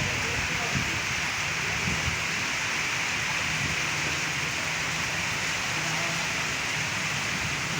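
Steady rain falls on a street during the rainy season, a dense even hiss with no pauses, close and constant throughout.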